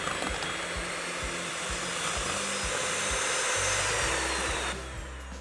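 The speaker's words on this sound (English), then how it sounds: "you can go in with a hand mixer, and we're just going to work that till it's nice," A hand mixer whirs loudly and steadily, beating Stork with vanilla bean paste in a bowl, its motor pitch shifting slightly near the end.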